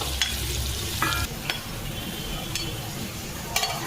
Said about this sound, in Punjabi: ਤੜਕਾ ਭੁੰਨ ਗਿਆ ਏ ਤੇ ਇਹਨੂੰ ਪਾਉਂਗੀ ਮੈਂ ਹੁਣ ਦਾਲ ਦੇ ਵਿੱਚ